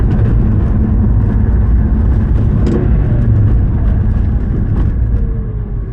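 A car accelerates and shifts up through the gears, a loud, steady engine drone heard from inside the cabin with no talking.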